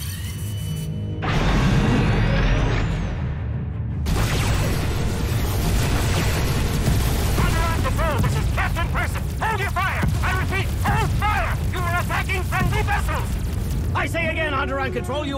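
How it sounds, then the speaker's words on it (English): Deep booming blasts and crashing explosions as defensive cannons fire on Republic ships in Star Wars: The Old Republic, with electronic tones and warbling effects layered over a continuous rumble. "Defensive cannons activated. I'm targeting the Republic ships now."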